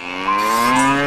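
A buffalo gives one long, loud, deep moo that is close by and fairly steady in tone, heard alone with no talking.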